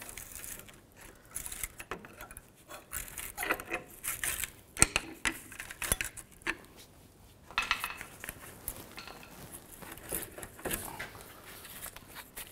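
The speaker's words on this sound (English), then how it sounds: "Now I'll just use a screwdriver, pry the caliper off." Metal clanks, scrapes and jangling while a screwdriver pries the rear brake caliper off a 2000-06 GMC Yukon, irregular close-up knocks and clicks spread throughout with no talk.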